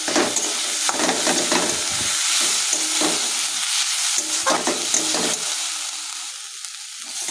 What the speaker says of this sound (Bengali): দিয়ে ভালো করে নাড়াচাড়া দিয়ে নিই ভালো করে